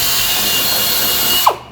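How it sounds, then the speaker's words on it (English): A drill with a 13/64 bit bores into a metal side panel and tank, a steady loud whirring grind that stops abruptly with a short squeal at the end. "holes into the side panel and the tank using a 13/64 drill bit"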